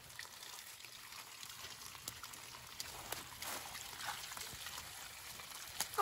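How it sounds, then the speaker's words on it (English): A tap that won't shut off, water running in a thin, steady trickle and splash, faint and continuous, with a few small clinks and no clear talk over it. "I can't turn the water off."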